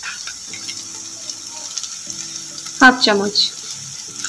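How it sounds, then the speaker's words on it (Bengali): Ground coriander, chili powder and garam masala fry with tomato in a pan for fenugreek greens cooked with peanuts, a soft steady sizzle broken by a brief clatter of stirring while someone speaks. "সব মশলাগুলোকে ভালো করে এবার আমি একটু ভেজে নেব।"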